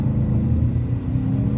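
A car with paddle shifters in automatic mode drops down through its gears while the paddle is held, giving a steady, close engine rumble that swells slightly with no clear break.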